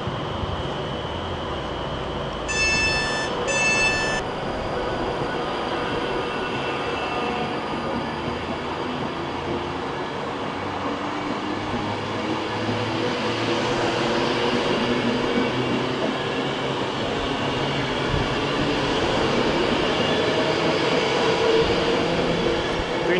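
British Rail Class 350 electric trains work through Milton Keynes Central station, a continuous rumble of wheels and traction with a brief electronic chime early on, steady and moderately close throughout with no speech.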